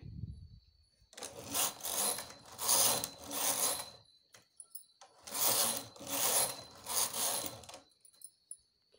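A knitting machine carriage run back and forth while casting on stitches for seamless socks, two long bursts of close mechanical whirring and clattering separated by a quieter pause with small clicks.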